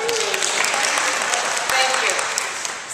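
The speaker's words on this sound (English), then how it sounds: "There should be applause here." Audience bursts into steady, close applause that swells briefly and carries on for a few seconds, with a voice speaking over the clapping.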